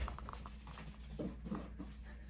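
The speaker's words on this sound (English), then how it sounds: "that's my dog running around in the basement right now" Dog moving about in a basement, with light scrabbling footfalls and a few soft whimpers, faint and somewhat distant.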